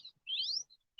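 Small birds chirp outdoors in the early morning, a quick rising tweet followed by a couple of short high calls, fairly close and with no voices over them.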